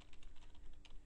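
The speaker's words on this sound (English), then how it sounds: "type in school uniforms because that's what I'm researching." Rapid typing on a computer keyboard, a steady run of light clicking keystrokes filling about a second, close and fairly quiet, with no talking.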